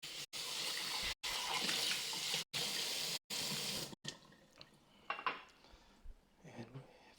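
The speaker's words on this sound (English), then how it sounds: "We'll just rinse these eggs out." Eggs rinsed under a running kitchen tap in a sink: a steady, loud hiss of water broken by short pauses, followed by quieter clinks and knocks of kitchenware.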